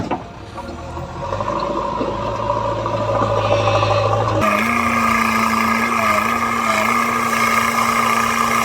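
A JCB machine engine works near a brick kiln with a loud, steady diesel drone. Its pitch shifts midway and then settles into a sustained hum.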